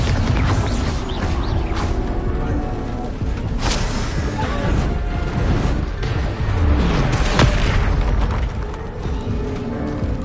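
Hogwarts Legacy Confringo and Bombarda spell explosions burst repeatedly in dense, loud succession, with booming crashes and crackling blasts layered over a continuous rumbling battle din.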